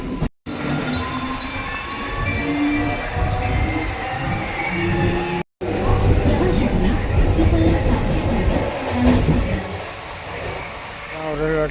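Interior of a Mumbai suburban train in motion, a steady loud rumble of wheels and carriage with rattles and faint squeals throughout, briefly cut twice, with voices talking underneath.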